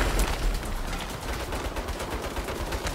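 Turret gunfire in the Saints Row video game, a rapid, dense burst of automatic shots with no pause between them, loud and close throughout.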